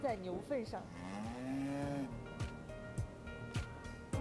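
A Tibetan cow gives a long, drawn-out moo close by on a rural village farm, followed by a few shorter clicks and knocks.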